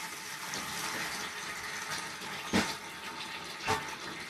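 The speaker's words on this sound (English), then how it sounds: "I'm going to refill this bucket." Water running steadily into a bucket while washing a fleece, a continuous close hiss and splash, with two brief louder splashes near the end.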